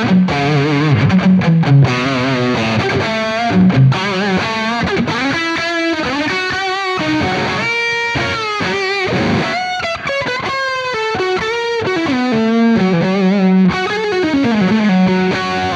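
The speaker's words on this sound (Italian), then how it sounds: "è figo il suono, grosso, se vado più su con la distorsione," An electric guitar played through a small mini amplifier at high distortion, with thick, sustained, driven notes in a continuous solo-style phrase, loud and close, with no talking.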